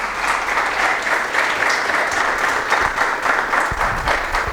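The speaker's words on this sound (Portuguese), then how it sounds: "Aleluia, aplauda o Senhor." Church congregation applauding at a worship service, a steady dense wash of clapping hands that holds at even strength throughout with no voices over it.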